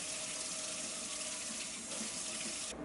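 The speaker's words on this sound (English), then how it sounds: "now we're gonna rinse this off." Tap water runs steadily into a sink while a face is rinsed, a close, continuous splashing rush with slight shifts in tone as hands move through the stream.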